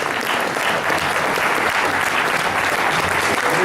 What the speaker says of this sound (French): je souhaite que vous les applaudissiez très fort